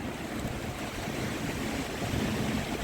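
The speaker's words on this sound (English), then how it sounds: "If we can get through these initial gusts, we'll be fine." Strong wind gusts roar steadily during a destructive thunderstorm in Lincoln, Nebraska, a loud, continuous broadband rush with no voices.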